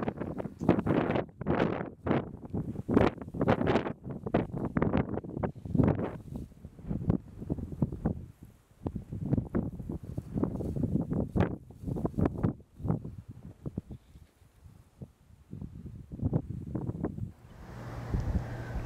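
Wind gusting across desert sand dunes during a windstorm, a rough, buffeting rush with repeated loud surges and mic-battering blasts that rise and fall irregularly throughout.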